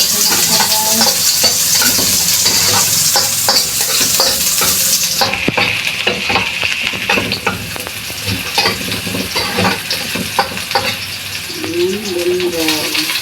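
Garlic frying in a hot pan makes a loud, close sizzle with rapid clattering stirs against the metal; the hiss drops a little partway through but the frying and stirring continue throughout.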